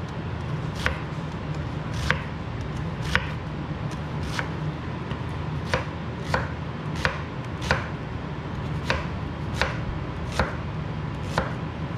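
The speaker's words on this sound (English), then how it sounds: "So satisfying cutting up onion." A knife chops onion on a cutting board in steady, regular strokes, about a dozen crisp, close thuds spread evenly over the span, with a low background hum underneath and no talking.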